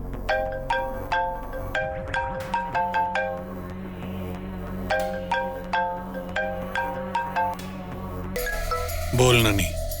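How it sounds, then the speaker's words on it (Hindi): A telephone ringtone rings repeatedly and goes unanswered, a steady pattern of bright electronic tones that runs for most of the stretch before a louder musical burst near the end. "सुकांत का बच्चा फोन क्यों नहीं उठा रहा है?"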